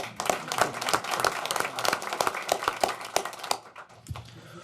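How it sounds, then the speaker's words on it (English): Audience applause at a community college district governing board meeting, a fairly faint, dense patter of many hands clapping that fades out toward the end. "give a round of applause to Mr. Chavez and Estrella Community College"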